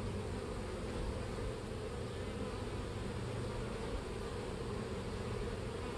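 Honey bees buzzing inside a builder hive used for queen rearing, a dense, continuous close hum with no breaks, no talk.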